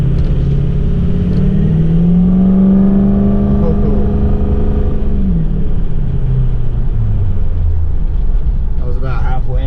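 A Ford Powerstroke diesel pickup truck accelerating at half throttle, its engine drone climbing steadily then easing off, loud and close throughout, with a continuous rumble underneath.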